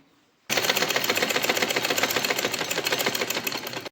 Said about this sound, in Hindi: हम बैक पार्ट की जो डार्ट है उनको सिलाई करेंगे।